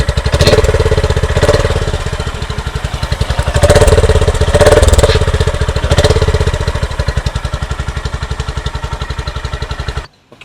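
A Honda CB350 with an air-cooled parallel-twin engine idles loudly and close, its exhaust giving a fast, even thumping that swells slightly a couple of times before cutting off abruptly near the end.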